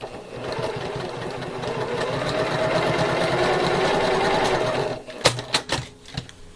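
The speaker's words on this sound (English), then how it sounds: "So let's go ahead and sew these first." Home sewing machine stitching the corners of a spring quilt block, a steady close whirring run for about five seconds, then a few short separate clicks and bursts as the fabric is adjusted.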